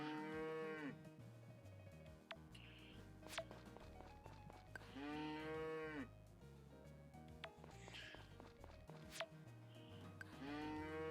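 A cow in the video game Story of Seasons: Friends of Mineral Town moos repeatedly in long, drawn-out calls, with occasional clicks and footstep-like taps between them.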